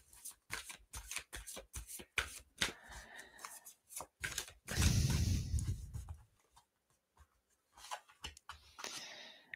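Tarot cards being shuffled by hand produce quick riffling flicks in a steady rhythm, close up, with a longer continuous riffle in the middle.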